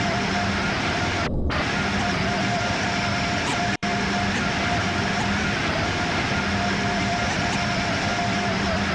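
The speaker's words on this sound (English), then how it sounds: "Trains in the background." Trains in the Train Sim World video game rumble steadily in the background, a constant broad hum with a low tonal drone, broken by a brief dropout and a sharp click; no one talks.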